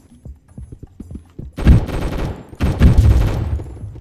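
Gunfire in a Roblox video game: two loud bursts of rapid automatic shots, each lasting about a second, after a run of faint clicks and footsteps.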